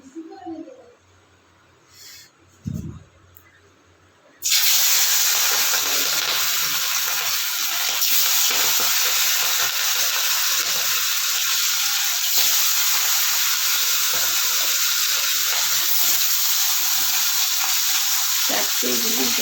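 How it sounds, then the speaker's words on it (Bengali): Hilsa fish dropped into hot oil, setting off a sudden loud, dense sizzle that holds steady for the rest of the clip after a few quiet clinks and soft handling sounds. "মাছগুলি ভেজে নেবো"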